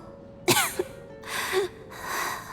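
A character in the Genshin Impact video game coughs: two short, sharp coughs followed by rough, breathy throat sounds, close and alone.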